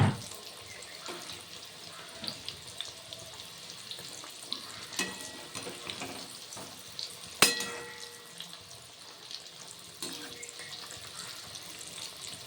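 Snacks fry in hot oil over low flame, giving a soft, continuous bubbling sizzle with scattered clinks and scrapes of a utensil turning them, one sharper clatter standing out midway.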